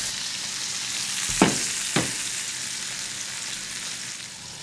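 A steak searing in a pan gives a steady, loud sizzle and frying hiss, with two brief sharper bursts early on as it is moved or turned, and no talking.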